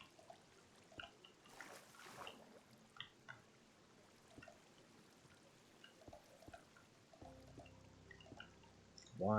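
Water dripping in Minecraft: faint, sparse drips fall at irregular intervals against a very quiet background, with a brief trickle and a louder blip near the end.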